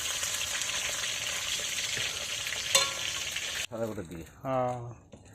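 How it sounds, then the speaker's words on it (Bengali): Fish frying in a pan for a home meal, a steady close sizzle with a clatter as it is turned, then cutting off abruptly before a few seconds of talk. "মাছ ভাজাটা অনেকটা হয়ে গেছে, একদিকটা এখন এবারে উল্টে দেওয়া হচ্ছে"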